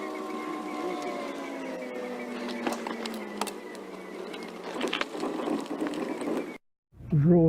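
A tool tightens a car battery clamp with a run of close mechanical ratcheting clicks over a steady whirring tone, followed by a brief silence and then a voice speaking.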